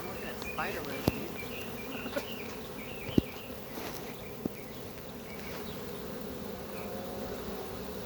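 Bees from a swarm being captured in a tall tree hum steadily and faintly in the background, with a few soft knocks and handling sounds over the buzzing.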